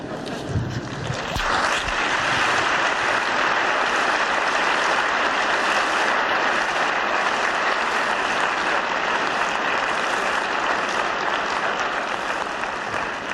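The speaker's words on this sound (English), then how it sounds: "If you are clapping for yourself out of your own enthusiasm, it's all right." An audience at a public talk in San Francisco claps in a loud, dense, sustained ovation that fills the room without letup, a brief murmur or shuffle at the very start.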